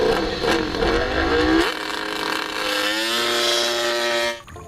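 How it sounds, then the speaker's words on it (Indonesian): A toy GP racing motorcycle plays an electronic engine effect: a loud, continuous buzzing rev that rises in pitch like accelerating, then cuts off abruptly at the end. "Wow, ini motor GP."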